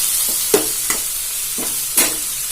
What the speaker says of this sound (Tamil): இப்போ தக்காளி வெங்காயம் வதங்கிடுச்சு